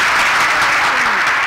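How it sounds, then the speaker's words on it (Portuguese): Steady wash of studio audience applause on a Brazilian TV show, dense and continuous from start to end, with faint voices underneath. "Aplausos,"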